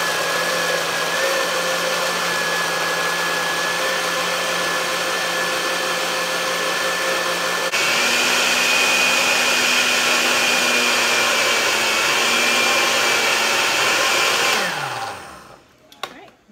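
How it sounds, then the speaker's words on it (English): A kitchen blender whirs steadily while blending a milkshake mix, its motor shifting to a higher, louder pitch about halfway through before spinning down and stopping near the end. "Time to blend. I'm going to start it on the milkshake mix, and then we're going to change it to the puree."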